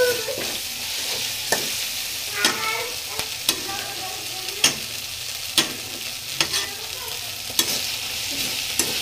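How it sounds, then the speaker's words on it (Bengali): Spice paste with onion, ginger paste and chili sizzles in oil as a spoon or spatula scrapes and knocks against the pan in irregular taps, close by and steady, with no voices. "তো এখন মশলাটা কষায় নিচ্ছি।"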